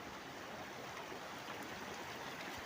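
A shallow stream flows around someone wading through it, a soft, steady close rush of water with no talking.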